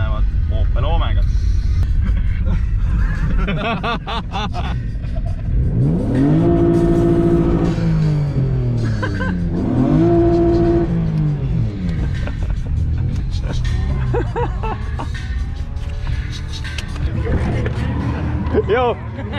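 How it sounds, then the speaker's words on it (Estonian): An Opel Omega revs hard on a drift track, loud engine pitch climbing and falling in two strong sweeps amid a constant roar, with people talking over the noise throughout. "kui nad rajal näevad Opel Omegat"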